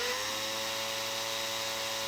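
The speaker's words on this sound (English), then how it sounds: "This is a 1 mil drill bit, and slowly we're going to enlarge these holes." Power drill turning a 1 mm bit slowly to enlarge small holes, a steady unbroken whine with a constant pitch, close and moderately loud, alone without talk.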